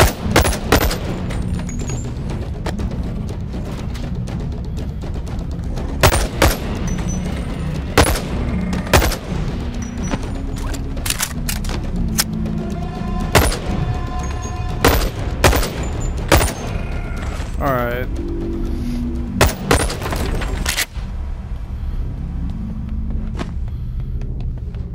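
Repeated gunfire in the virtual reality game Boneworks, sharp loud shots scattered irregularly over a steady low rumble, some in quick bursts.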